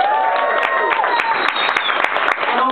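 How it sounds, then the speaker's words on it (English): A comedy club audience applauding: dense, steady clapping throughout, loud and close, with a few scattered cheers and no other talk. "I don't really have anything funny to say about that, but I wanted the round of applause"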